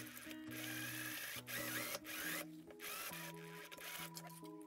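A sewing machine runs in bursts while stitching dress fabric, its steady mechanical whir stopping and restarting several times, close and clear with no talking.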